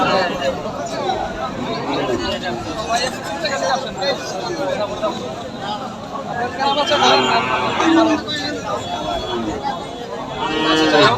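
Cattle, heifers and calves at the Garbari cattle market in Tangail, heard up close as a steady din of lowing and livestock noise mixed with crowd chatter and people talking throughout.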